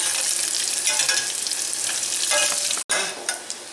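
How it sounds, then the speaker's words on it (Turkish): Steady crackling sizzle of nuts and chickpeas frying in hot oil, dense and close, with a brief dropout near the end. "Bunları böyle yağın içinde güzelce kızartıyoruz."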